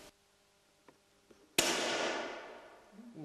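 An Austrian-made Steyr air rifle with an electronic trigger fires a single sharp shot after a few faint clicks, and the report rings out and decays slowly as if in an indoor shooting range.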